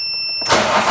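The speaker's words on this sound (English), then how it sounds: "start the car now" A Toyota Auris engine turns over and catches, quickly rising into a loud, steady running roar up close.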